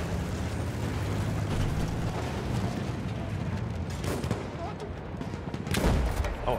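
Battlefield 1 campaign gunfire rattles over a dense battlefield din, with sharper shots and booms near the middle and end, while someone talks over it.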